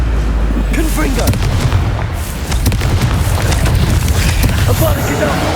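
Confringo blasting-curse explosions in Hogwarts Legacy boom in rapid succession over constant battle noise, with a voice shouting spell names between the blasts.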